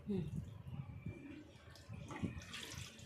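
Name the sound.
water draining from front load washing machine filter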